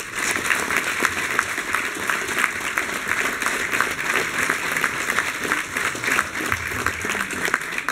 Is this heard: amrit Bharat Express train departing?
no